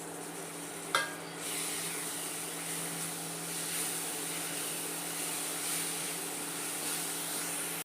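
Crushed onion and green chili sauté in a pan with a steady, moderate sizzle and hiss. A brief clatter of a utensil is heard near the start, and no one talks.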